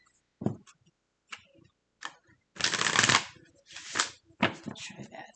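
Tarot cards are shuffled by hand in a few short riffling bursts and soft taps, with one longer, louder riffle in the middle, close up and without speech.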